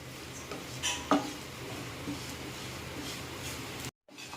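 Masala spices frying in a pan for a Kerala bitter gourd masala curry, a soft steady sizzle with a few clinks of a spoon stirring against the metal near the start, cut off abruptly at the end.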